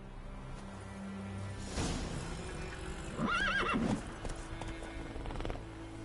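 A horse in The Witcher 3 gives a clear, fairly close whinny midway, with rhythmic clip-clop of hooves and ambient game sounds running throughout.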